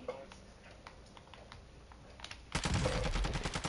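Gunfire during a Call of Duty DMZ match, with scattered faint clicks and taps that give way to a loud rapid burst of close shots in the second half.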